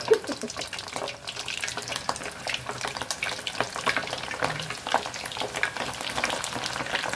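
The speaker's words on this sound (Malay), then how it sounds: "kita goreng, minyak dah panas." Pieces of beef lung frying in hot oil until crisp, with a busy crackling sizzle and scattered pops that continue steadily at close range, with no speech.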